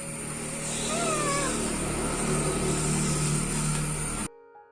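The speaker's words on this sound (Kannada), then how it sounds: "ಬೆಕ್ಕಿನ ಮರಿ ಬಂದಿದೆ ನೋಡು" A kitten meows several times in a rural village home, the rising, wavering cries standing out close over a steady background hum until the sound cuts off abruptly.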